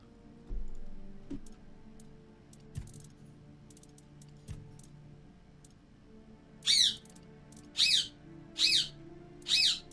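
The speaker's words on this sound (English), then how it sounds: "Silence, bird." A bird squawks four times in quick succession in the video game Tainted Grail: Fall of Avalon, clear sharp calls standing out over quiet game ambience after some faint earlier clicks.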